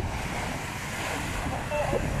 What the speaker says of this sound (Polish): Jakie fale w ogóle!